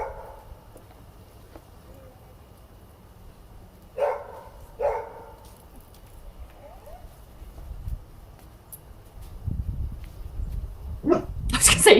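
Dogs bark in a backyard in a few short, distant bursts around a quiet stretch, followed by louder close rustling and noise near the end.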